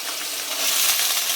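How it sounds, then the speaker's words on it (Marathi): Potato pieces fry in a pan with oil while poha is being made. A bright, steady sizzle and crackle runs close and continuous through the whole clip, with no talking. "आता आपण अगोदर बटाटा परतून घेऊ"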